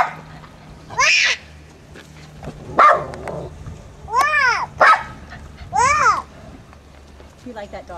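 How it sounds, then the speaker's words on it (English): A puppy barks and yips in a series of short, sharp bursts at close range during a first meeting with white tigers, with people talking softly in between. "You like that dog, you don't?"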